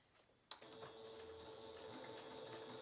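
A sewing machine sews the seams of a cross-stitch project bag, starting with a sharp click and then running in a steady, quiet, close whir.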